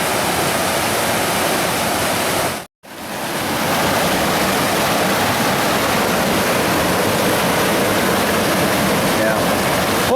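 A cold mountain stream in the Smoky Mountains rushes steadily up close, a dense broadband roar of flowing water with one brief dropout near the start.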